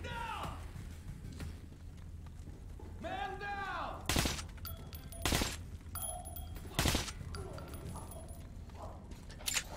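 Several sharp, loud gunshots ring out from a firearm in Metro: Last Light Redux, spaced about a second or two apart, amid quieter creaks, ambient game noise and brief voice sounds.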